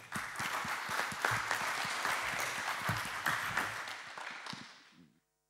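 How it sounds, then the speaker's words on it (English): Audience applause following a conference talk on Sphinx autodoc API documentation, a dense steady wash of many hands clapping for about five seconds before fading out and stopping abruptly. "Let's give him a big round of applause."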